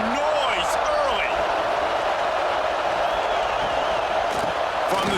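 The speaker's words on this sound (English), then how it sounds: "This crowd bringing the energy and noise early." A stadium crowd in EA Sports College Football 26 roars steadily and loudly at a Penn State versus Nevada game, a dense continuous wash of cheering with whistles and shouts rising through it.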